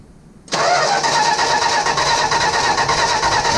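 A 1965 Plymouth Barracuda that has sat for three years cranks over without firing, the starter suddenly grinding in a steady rhythmic churn that continues loud and close to the end.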